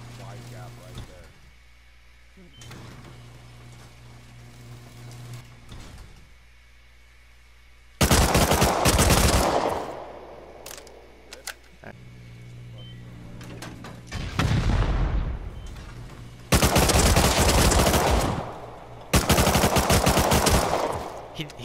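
Rapid automatic gunfire bursts in the video game Rust console edition, loud, dense volleys arriving in several separate clusters with quieter ambient stretches between them.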